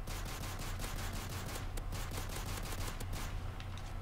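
Rapid bursts of automatic gunfire in Call of Duty: Modern Warfare 3 Survival Spec Ops, steady rattling shots repeating without pause over a constant low game rumble, fairly quiet overall.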